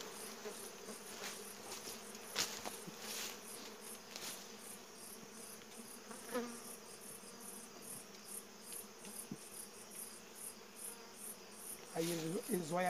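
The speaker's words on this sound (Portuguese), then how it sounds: "Tem muita abelha." Bees buzz in a faint, continuous drone during a honey harvest, with a steady rhythmic insect chirr above it and occasional soft handling noises and brief quiet voices.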